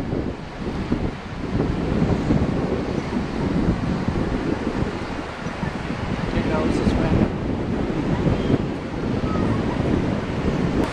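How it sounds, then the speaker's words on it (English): Strong wind roaring at the beach, buffeting the microphone in a loud, continuous rush with surf washing beneath it, steady for the whole stretch and close up. "The wind's getting to be too much."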